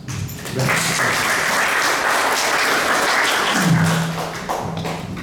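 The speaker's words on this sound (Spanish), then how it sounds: "le recibimos con fuertes aplausos" An audience at an institute event applauds to welcome the institute's director. The clapping is loud and sustained and swells after a quiet start, with a brief voice near the end.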